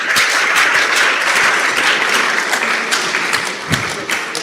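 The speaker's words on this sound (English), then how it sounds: "please, a round of applause for her." Audience applause at an international conference marking a priest-professor's jubilee, a dense, steady wash of clapping from a large crowd that holds for several seconds, with a few louder individual claps standing out near the end.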